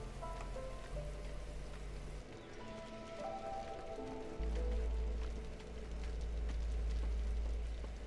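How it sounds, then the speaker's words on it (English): Light drizzle in the video game Against the Storm, a soft, even patter running under layered game music and low rumbling tones, with no talk. "So right now we're in the drizzle, which as you can see is a lot lighter than everything else."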